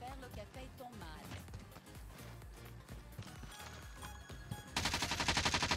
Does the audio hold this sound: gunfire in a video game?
yes